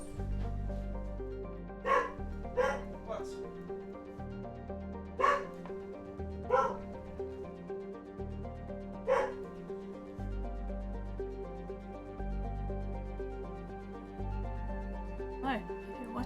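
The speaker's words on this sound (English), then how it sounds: "What's she barking at?" A dog barks at midnight in a home in short single barks and pairs scattered across the stretch, fairly near, over a steady low hum, with brief talk in between.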